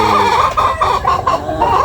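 Chickens cluck steadily in a busy, close-up chorus, with several birds overlapping in short repeated bursts throughout.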